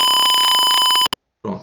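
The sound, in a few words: alarm sounding in Tinkercad Arduino PIR sensor alarm simulation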